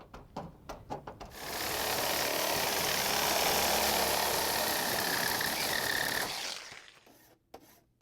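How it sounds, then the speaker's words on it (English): A jigsaw cuts through a flat sheet of metal traced from a frame, a loud, steady buzzing rasp for about five seconds after a few short taps, then it stops and leaves quieter knocks. "Then cut it out with shears and a jigsaw."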